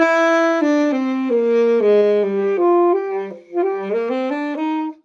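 A saxophone played with a pinched embouchure plays a descending then rising phrase with a thin, pinched tone; notes wobble and briefly drop out midway before resuming.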